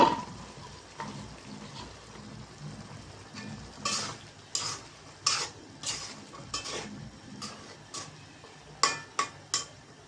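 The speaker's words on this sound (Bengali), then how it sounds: "মশলা কষানির সাথে আলুটাও দিয়ে দিলাম আলুটাও কষাই নেব" Potatoes frying with spices in a pan, a soft steady sizzle overlaid by a series of sharp spatula knocks and scrapes that grow more frequent toward the end, no voices.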